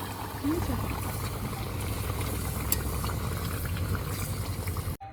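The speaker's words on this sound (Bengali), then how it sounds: "কত সুন্দর ফুটছে আমি শুধু তাই দেখছি" Meat curry bubbles in a pot with a close, steady low burble that holds evenly for a few seconds before cutting off abruptly.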